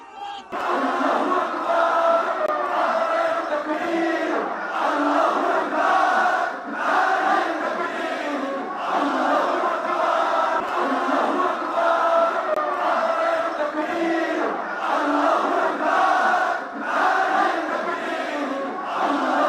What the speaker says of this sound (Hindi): जमातियों की वहशी भीड़ इतने पर भी नहीं रुकती।